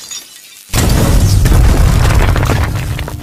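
A cartoon explosion from a blown fuse in an Indian comedy animation: a sudden, very loud boom breaks a quiet moment and then holds as a sustained, crackling roar until the end.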